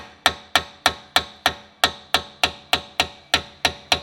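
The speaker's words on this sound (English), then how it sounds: "use a hammer to push it in" Sharp metallic hammer taps drive a rear brake caliper pin on a Dodge Durango Hellcat in a steady, even rhythm, about fourteen blows, close and clear with a quick ring after each.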